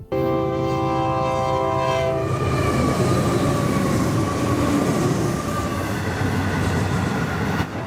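A very long iron ore freight train of about 440 cars, run by automated software, passes with a sustained horn blast at first, then a heavy, continuous rumble and rail clatter close by.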